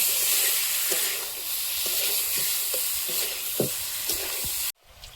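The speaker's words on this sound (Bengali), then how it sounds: "মাছটা দিয়ে মশলার সঙ্গে একটু নেড়ে চেড়ে নেব।" River fish stirred into fried spices in a kadai sizzles with a steady, loud hiss, broken by soft scraping stirs, then cuts off abruptly near the end.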